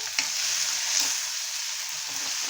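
Chopped onions hit hot oil seasoned with cumin, asafoetida and curry leaves, giving a steady, bright hiss of frying with a few sharp crackles and stirring clicks, close by and without any talking.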